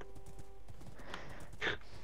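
Horse hooves clip-clopping in the Minecraft video game: a few soft, faint hoofbeats under a quiet background, with a brief brighter sound near the end.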